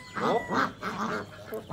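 Ducklings on a small home farm give a run of rapid, repeated quacking calls, several close bursts in quick succession with no talk over them.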